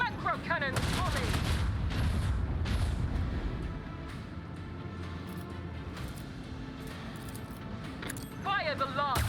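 Macro cannon broadsides in the Warhammer 40K Rogue Trader video game, heavy booming gunfire and rumbling blasts that roll on steadily for several seconds, with someone talking over the start and end.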